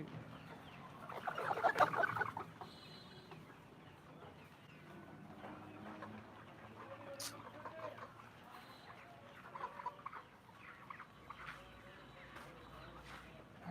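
Layer chickens on a poultry farm where birds are ailing, clucking faintly and intermittently, with a louder burst of clucks early on over quiet background noise.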